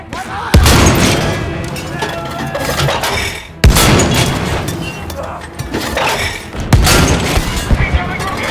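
Loud cannon blasts boom three times at steady intervals during a World War II battle in Battlefield 5, each followed by rumbling battle noise and shouted voices.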